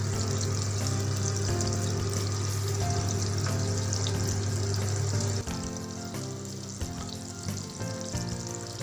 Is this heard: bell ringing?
no